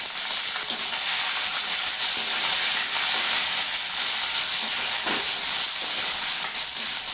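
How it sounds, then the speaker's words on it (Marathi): Green chillies, garlic, coriander and a little coconut sizzle and fry steadily in a hot pan for a Maharashtrian thecha, a loud continuous crackle with occasional stirring and no talking. "हिरवी मिरची, लसूण, कोथिंबीर हे छान असं परतून घ्यायचं।"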